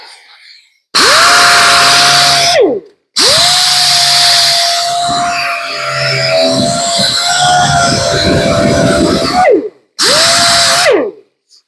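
Orbital sander working a metal panel on a 1935 Ford body, loud high-pitched whining buzz in three bursts, the longest with a gritty rasp as it bites the steel, each spinning down at the end.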